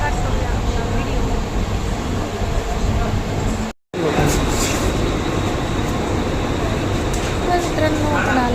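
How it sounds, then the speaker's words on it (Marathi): Inside a Mumbai local train riding toward CST station, a loud continuous rumble and rattle of the carriage with clanking, broken by a brief dropout near the middle before the steady roar resumes. "तर मित्रांनो, आपण आज निघालेलो आहोत ट्रेनमध्ये."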